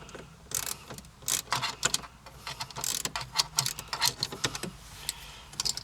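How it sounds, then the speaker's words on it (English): Ratchet loosening M7 bolts on a BMW E90, rapid close clicking in uneven bursts with light metallic rattles between strokes. "There are two of them, which are M7 bolts. So I'm gonna do that with this ratchet."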